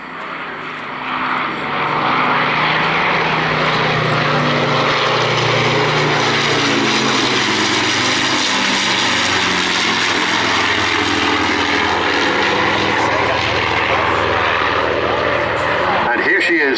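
Spitfire Mark 19 propeller fighter at an RAF airfield display, a loud sustained piston-engine roar swelling and holding as it passes, broad and rumbling throughout with a commentator speaking over it.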